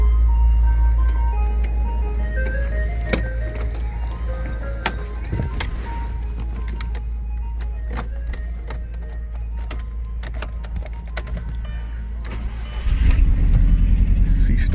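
Engine of an MK1 Audi TT fitted with a hybrid turbo cranking and firing up near the end, after a stretch of faint clicks and low rumble; once running it settles into a loud, steady engine note.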